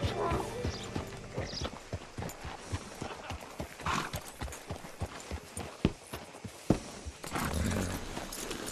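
Horse hooves clip-clop in a steady walking rhythm, close by, in Red Dead Redemption 2, with a brief whinny and some faint mechanical clatter around them.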